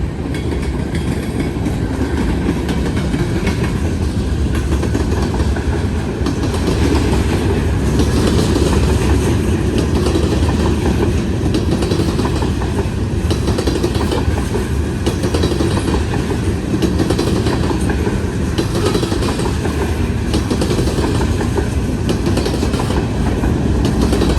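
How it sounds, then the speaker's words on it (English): A freight train with TTX boxcars rolls by close and loud, giving a steady rumble of cars with rhythmic clickety-clack from the wheels over the rail joints and faint squeal, and no one talking. "There's another one. TTX boxcar."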